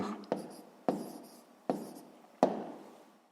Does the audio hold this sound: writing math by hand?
yes